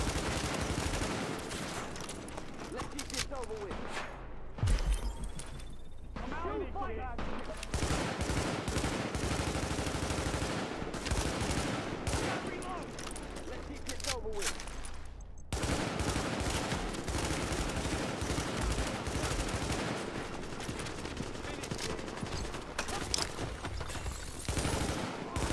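Sustained gunfire in the video game The Division, bursts of automatic and rapid shots running nearly the whole time with brief pauses, loud and dense amid other game sounds.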